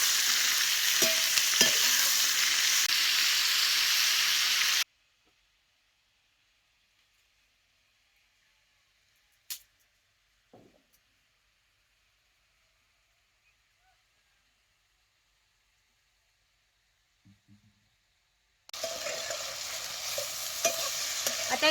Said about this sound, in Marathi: आता हे सगळं कसं भाजत आले बघा